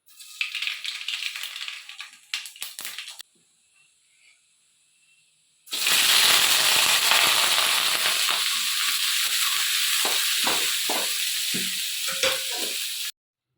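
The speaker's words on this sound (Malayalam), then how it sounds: "ആദ്യം കടുക് പൊട്ടിച്ചു" Mustard seeds splutter in hot oil for breakfast in a home kitchen, a loud close crackling hiss with bursts of popping that runs for several seconds after a quieter rattling start and a short pause.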